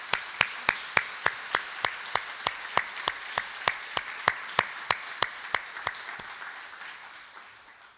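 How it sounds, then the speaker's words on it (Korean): A church congregation claps together in steady, evenly timed beats, about three per second, sharp and regular, before the rhythm stops and the room sound fades out. "그냥 앉아 계신 대로 한번 크게 격려의 박수해 주시기 바랍니다"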